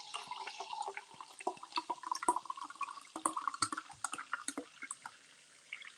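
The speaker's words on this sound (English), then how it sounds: "just gonna put some water in here. You're gonna hear it fizzle." Water trickles into a vessel with a soft crackling fizzle, a run of small drips and pops close by, fairly quiet and without talk.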